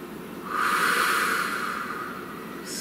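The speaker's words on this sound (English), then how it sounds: "Please take a nice deep breath." A slow, deep breath drawn in close to the mic, a soft airy rush that swells, holds steady for about two seconds, then tapers, alone in a quiet room.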